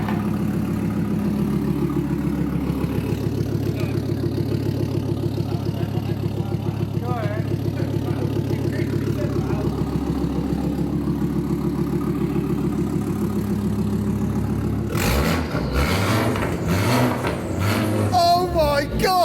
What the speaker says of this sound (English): That is such a chuggy engine,